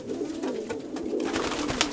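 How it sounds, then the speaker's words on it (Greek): Stenimachos pigeons of Naousa cooing inside a loft, a steady layered murmur of soft low coos from several birds close by, with faint fluttering and rustling, no voices. "τα ωραία περιστέρια που έχει εδώ στη στενήμαχο της Νάουσας ο φίλος μας ο Πετινάρης"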